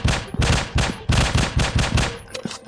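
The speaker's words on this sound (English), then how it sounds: "I guess we'll have to use our sniper rifle." Gunfire in a dinosaur-hunting video game sounds as a steady run of loud, sharp blasts at close range, roughly eight evenly spaced shots in quick succession, with no voices.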